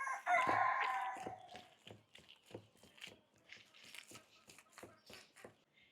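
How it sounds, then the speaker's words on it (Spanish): A rooster crows loudly at the start in a countryside setting while corn tamales are made, followed by a series of softer clucks and short calls spaced out over quiet background. "Los gallos están que cantan por allá también."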